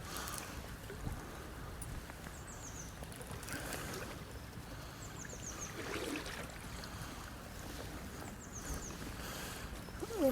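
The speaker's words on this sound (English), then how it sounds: "Such hard wading here." Fly fishing for winter grayling, an angler wades through river water with a continuous soft sloshing and swirling, fairly quiet and close, with faint bird chirps now and then.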